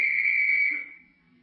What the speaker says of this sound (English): that policeman whistled at you.